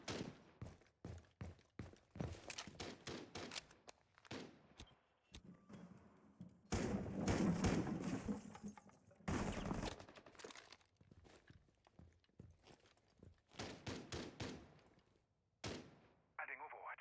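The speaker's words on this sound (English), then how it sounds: "We hear gunshots." Gunfire in a Rainbow Six Siege college esports match between Marietta College Blue and Michigan State University comes as sharp bursts of shots, some clustered and rapid, with footsteps and quieter gaps between the volleys.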